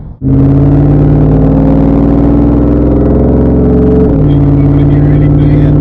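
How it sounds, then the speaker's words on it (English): A loud 2nd-generation Ford Lightning truck engine idles with a deep, steady exhaust rumble close by, briefly dipping then settling again. "I don't know how the exhaust is going to affect the microphone."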